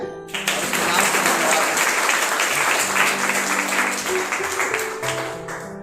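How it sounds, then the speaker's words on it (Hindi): A church congregation claps for Jesus Christ during a service, a full, sustained round of applause with a voice or tones carrying faintly over it before it tapers off. "आइए प्रभु यीशु मसीह के लिए ताली बजाएं"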